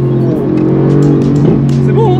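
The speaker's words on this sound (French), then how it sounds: "je vais te refaire encore une petite accélération" Mercedes-AMG GT R engine under acceleration with paddle shifters, a loud close steady engine roar with rising pitch and a brief shift, heard from inside the car.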